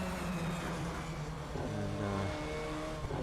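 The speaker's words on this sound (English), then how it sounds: "watching the cars as they go by" Race cars passing on the Brno circuit, heard from a hillside spectator area: a steady, loud engine drone with rising and falling pitch as the cars sweep by, continuous for a few seconds with no talk.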